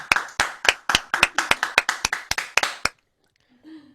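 A single person claps about eleven times in a steady rhythm at close range after an online live gig by a singer, then it stops, followed by brief faint talking.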